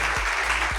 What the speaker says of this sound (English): Ladies and gentlemen, please, with a round of applause